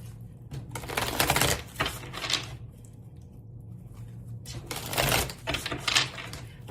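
A deck of tarot cards is shuffled by hand in repeated bursts of dense, riffling flutter, close and fairly loud, with brief pauses between passes and no talking.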